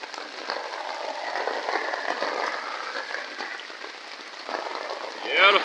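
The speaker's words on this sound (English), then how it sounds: "It is currently pissing down rain." Heavy rain pours down steadily outdoors at a gold panning site, a dense, continuous hiss of drops hitting surfaces that stays loud throughout with no talk.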